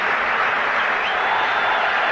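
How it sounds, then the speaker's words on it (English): A cricket crowd on its feet gives a steady, continuous wall of applause and clapping for Sachin Tendulkar's completed innings, sustained and fairly even throughout with no voices standing out. "Let's just dwell on the applause that this young man is going to get."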